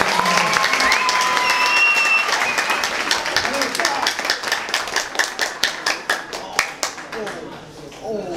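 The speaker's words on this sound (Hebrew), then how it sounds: "ותן עליכם הרבה הרבה מחיאות כפיים" An audience at a community evening event in Kfar Silver bursts into applause, dense clapping that thins into a slower rhythmic patter toward the end, with a voice briefly over the start.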